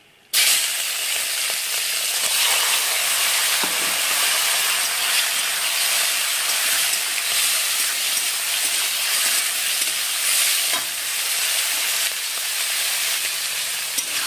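Prawns hit hot oil in a pan and burst into a loud, bright, continuous sizzle and hiss that holds steady for the whole stretch, with small crackles and no talking.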